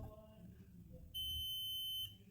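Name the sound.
multimeter continuity beep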